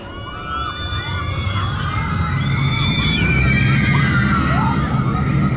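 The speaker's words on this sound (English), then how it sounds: "Little creepy bit of theme in there, horse and carriage" Recorded horse-and-carriage effect from a spooky theming section along a Toxic Garden suspended looping coaster in Germany, with whinnying over a continuous roar of ride and ambient noise, loud and steady throughout.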